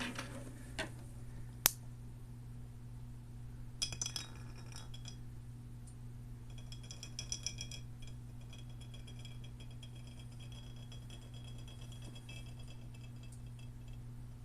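A magnetic stir bar, oversized for its jar, spins in a glass jar growing mycelium culture, giving occasional sharp glassy clinks and ticks over a steady low hum, with a brief cluster of rattling around the middle.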